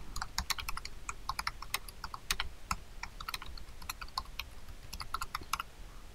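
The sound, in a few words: typing on a computer keyboard to edit text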